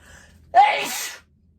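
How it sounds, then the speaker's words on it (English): A single sharp sneeze bursts out after a brief quiet moment, loud and close, then cuts off into silence. "I'm trying not to sneeze"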